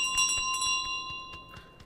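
Bell jingling in Untitled Goose Game, a series of bright, quick metallic rings repeating irregularly over a soft steady background hum.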